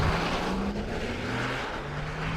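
A Porsche Taycan RWD electric sports car on the move, giving a steady, loud hum of motor and road noise with faint tonal whines gliding slowly in pitch, constant throughout without any voice.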